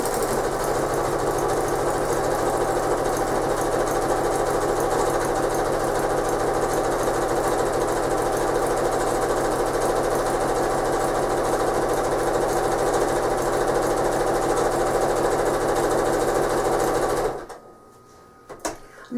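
A sewing machine runs steadily for a long stretch while quilting a postcard with rulers, a loud, close, fast mechanical whir and stitch rhythm that stops abruptly near the end, followed by a brief faint clunk.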